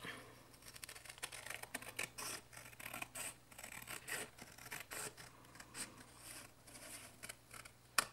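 Paper being cut with scissors for a handmade spring-themed mini album made of envelopes, heard as a close, steady run of crisp snips and scratchy rustles with no talking.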